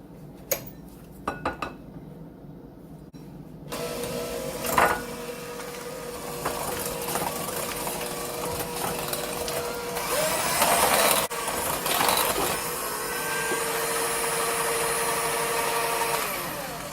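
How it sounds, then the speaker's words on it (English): Electric mixer beating pie filling for a fruit and cream pie until smooth. After a few quiet clinks, a steady whirring motor starts and runs continuously with a slightly varying pitch. "Now you're going to take a mixer and mix it until it's smooth."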